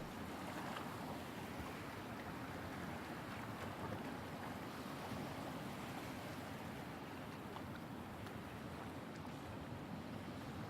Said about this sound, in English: Slicing through the water